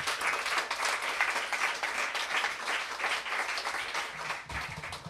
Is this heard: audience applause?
yes